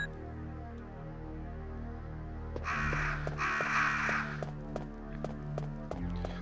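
Crows cawing in the video game Resident Evil Director's Cut, a burst of harsh, repeated caws that flares loudly over a steady game soundscape with rhythmic tapping, then drops back to the ambient background.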